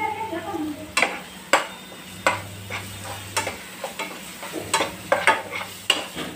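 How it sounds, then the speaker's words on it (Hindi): Potatoes with coriander powder, turmeric and salt stir-fried in a pan, a steady soft sizzle broken by repeated sharp scrapes and clinks of a spoon against the pan, close and clear with no talking. "इसको भी अपन 2-3 मिनट अच्छे से है ना पकाएंगे सब मसाले को"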